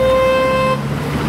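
A car horn blasts loud and close on a street, one steady honk held for about three quarters of a second, then it cuts off to traffic hum.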